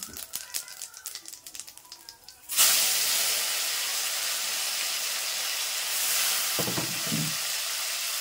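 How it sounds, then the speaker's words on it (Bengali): Cumin seeds and tomato sizzle in hot oil in a wok: a loud, steady frying hiss begins abruptly and runs on, following light clatter, with a couple of low bumps near the end. "তো দেখো কড়াইতে দিয়ে দিলাম জিরে, আর এবার দিয়ে দেবো একটা টমেটো।"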